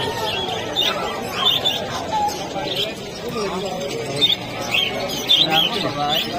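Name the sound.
many birds chirping at a bird seller's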